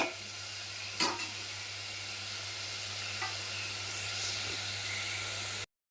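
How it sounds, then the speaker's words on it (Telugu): Ingredients frying in a pan with a pinch of salt, a steady soft sizzle under a couple of brief scraping stirs, fairly quiet and close with no talking. "ఇవి బాగా వేగనిద్దాము. కొంచెం సాల్ట్ వేద్దాం."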